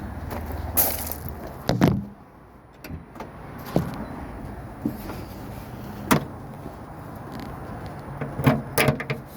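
A 2018 Subaru Impreza has its hood popped open, with a few sharp clunks and clicks of the latch and release up close, separated by quiet stretches with faint background noise and no talking.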